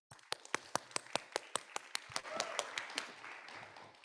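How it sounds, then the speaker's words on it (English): Audience applause welcoming someone speaker at a women-in-leadership workshop: a steady run of sharp, evenly spaced claps that thicken into a denser, continuous round of clapping from the crowd. "Let's give her a big welcome round of applause."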